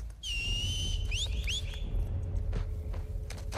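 Enemy whistling in The Last of Us Part II: a sustained high whistle, then several quick rising whistle chirps, heard over a low background rumble with faint footsteps.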